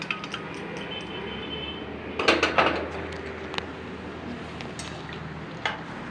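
Pumpkin greens are poured into a pan of simmering sesame and poppy-seed sauce, producing a short cluster of clattering, rustling and splashing bursts over a steady background hum, then a few light clinks.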